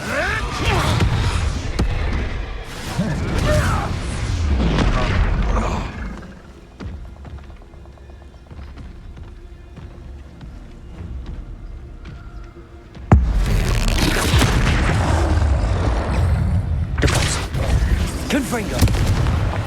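Expulso explosion spells blasting in the Hogwarts Legacy video game: loud, dense bursts and booms cluster at the start, ease into a quieter rumbling stretch, then erupt again with a sharp hit, while a voice shouts over the action.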